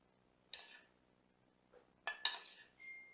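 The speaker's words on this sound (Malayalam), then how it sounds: "നന്നായിട്ടൊന്ന് മിക്സ് ചെയ്യാം." Spoon stirring bhel puri in a bowl with green chutney, giving a few brief scraping clinks of metal on dish in separate bursts, close and fairly quiet, with no talk.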